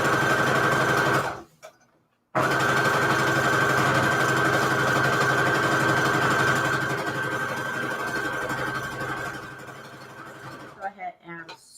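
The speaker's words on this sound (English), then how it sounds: "Go ahead and sew this fabric down on this side." A sewing machine stitches scrap fabric for Christmas covers with a loud, close, steady whir that stops briefly, then runs long and unbroken before easing to a halt.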